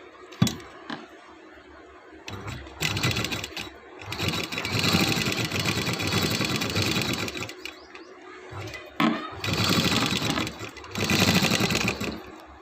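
A home sewing machine stitches in several bursts, a close, loud mechanical whirr that starts, stops and restarts with short quiet pauses between runs.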